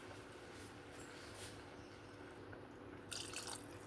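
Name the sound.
water poured into pot of rice for pulao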